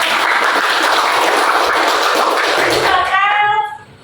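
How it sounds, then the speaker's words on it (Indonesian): Classroom students clapping together during a guidance lesson, a steady broad wash of applause that cuts off near the end, followed by a brief faint tonal ringing. "tepuk tangan buat"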